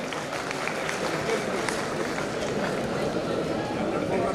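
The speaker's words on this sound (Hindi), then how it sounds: "तालियों की करतल ध्वनि।" Applause from an audience at a student award and scholarship ceremony held by a charitable trust in Udaipur, a dense, steady wash of clapping and crowd noise that stays loud throughout, with voices mixed in.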